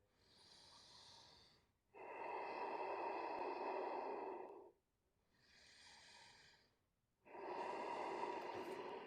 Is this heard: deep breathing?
yes